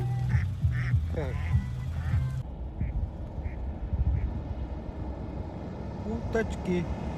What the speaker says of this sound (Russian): Уточки.